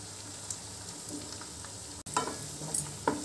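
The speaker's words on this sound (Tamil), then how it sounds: "அதோட 2 பச்சை மிளகாய், 2 கொத்து கறிவேப்பிலை, 1/2 ஸ்பூன் வெந்தயப்பொடி, 1/2 ஸ்பூன் பெருங்காயத்தூள் சேர்த்து வதக்கிக்கலாங்க" Garlic, green chilli, curry leaves, fenugreek powder and asafoetida sauté in hot oil as a tempering for tomato thokku: a steady close sizzle that cuts out briefly, then returns louder with stirring scrapes, no talk.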